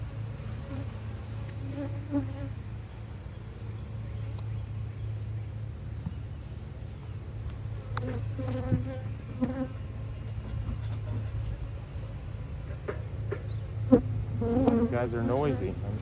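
Honeybees buzzing steadily during a beehive inspection, a dense continuous hum close by, with brief rustles and a few faint handling sounds.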